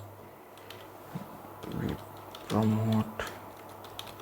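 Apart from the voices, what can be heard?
typing on a computer keyboard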